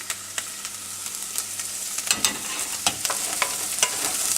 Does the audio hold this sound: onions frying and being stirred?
yes